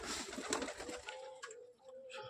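Pigeons inside a home pigeon loft coo softly in low, rounded rolling calls, a few overlapping phrases heard close but quiet, with faint shuffling and no talking.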